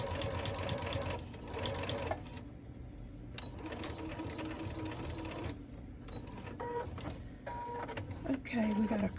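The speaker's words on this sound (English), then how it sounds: "my machine will let me just tap the pedal and make the needle go up or down" A home sewing machine stitches a quilt in bursts of rapid, even needle clatter, started and stopped with a foot pedal, with short pauses between runs and a voice talking over parts of it.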